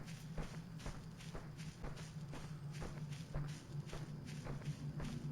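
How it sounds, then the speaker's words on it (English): Slow, steady footsteps of an unseen entity walking in the game Voices of the Void, soft thuds repeating at an even pace over a low droning hum. "I can hear its footsteps behind me"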